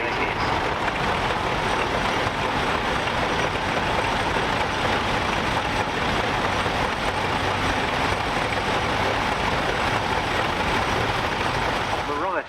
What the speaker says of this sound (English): as this tractor comes round